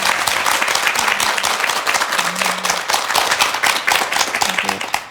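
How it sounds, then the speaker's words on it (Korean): Studio audience applauding on a Korean TV program, a dense, steady wash of clapping that fills the whole stretch at even loudness, with no voices standing out. "일단 우리 두 분께 용기 잃지 마시라고 박수 한번 보내주시겠습니까?"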